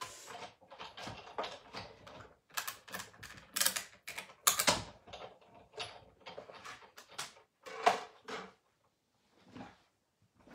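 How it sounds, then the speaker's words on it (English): A Big Shot die cutting and embossing machine being cranked, giving a close run of ratcheting clicks and clacks in uneven bursts. A short quiet pause falls near the end. "I'm going to run that through the big shot so just bear with me a minute or the die cutting and emboss cut machine."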